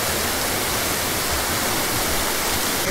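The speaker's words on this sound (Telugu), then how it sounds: "అయితే చూడండి వ్యూ, పైన నుంచి వాటర్ అయితే పడుతూ ఉన్నాయి" Water pours down Penchalakona waterfall in a loud, steady, broadband roar heard close by, with no voices over it.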